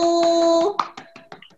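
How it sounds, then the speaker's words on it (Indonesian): A small classroom of students gives group 1 a brief round of scattered claps, about half a dozen sharp hand strikes following a sustained tone, sparse and close. "tepuk tangan untuk kelompok 1"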